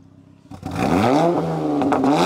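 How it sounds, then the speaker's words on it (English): Honda Accord with a new exhaust, engine revved once from idle and held high, a loud, close, raspy roar with a slight dip and rise in pitch. "About to get a little rev test"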